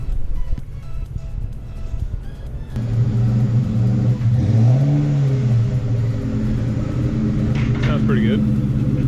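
A supercharged 6.2-liter Ford Raptor pickup engine idles quietly, then catches and settles into a loud, deep, steady idle with a rising and falling rev midway, recorded close by.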